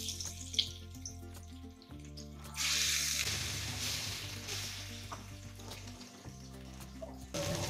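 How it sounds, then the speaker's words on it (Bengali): Marinated fish pieces frying in hot oil, a steady sizzle that swells louder as the fish goes in, running continuously at close range with a low background hum and no talk. "সেই মেরিনেট করা মাছগুলো আমি এবার তেলের মধ্যে দিয়ে দিব।"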